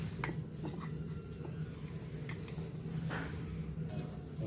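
A spoon scrapes and clinks against a bowl while cornflour is stirred with a little water, with faint scattered taps over a quiet room hum.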